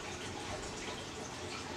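Water pouring into a Nurture Right 360 egg incubator to raise humidity, a steady close splashing trickle running without pause and with no voices.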